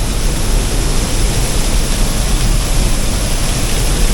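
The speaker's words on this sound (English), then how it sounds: "I'm under the waterfall and it's super wet in here, guys" Water pours down right overhead from beneath a waterfall in Baños, Ecuador, a very loud, close, unbroken rushing hiss like heavy rain, with no talk.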